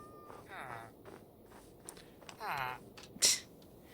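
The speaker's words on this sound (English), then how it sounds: "I hear a kitty." In the Minecraft Cobblemon video game, a cat gives two soft meows a couple of seconds apart, with light clicking game footsteps around them and a brief sharp chime after.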